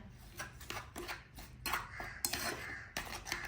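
Quick clinking and scraping of a utensil against a bowl as two eggs are whisked, rhythmic strokes close up with no talking.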